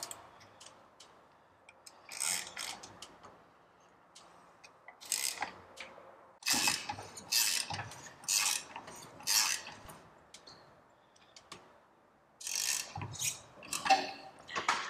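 A fitting on a truck tarp system being snugged up by hand tool: close, crisp metallic ticks and clicks in irregular clusters, like a ratchet working in short bursts, with quiet pauses between and no talking.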